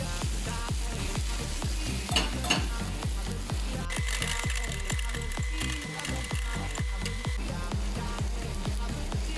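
Garlic frying in a pan while being stirred, a steady sizzle broken by rapid, regular scraping strokes of a utensil, close and continuous with no talking.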